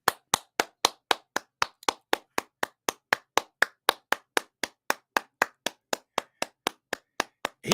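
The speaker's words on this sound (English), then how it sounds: "Congratulations. Everybody give me some round of applause." A single pair of hands claps in a steady, evenly spaced rhythm, about four sharp claps per second, close and loud with silence between each clap.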